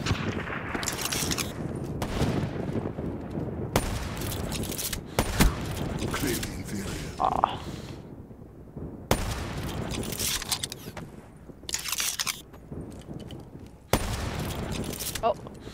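Video game gunfire in a competitive online shooter match crackles in loud bursts and rapid fusillades, broken by short gaps, while players talk over the action.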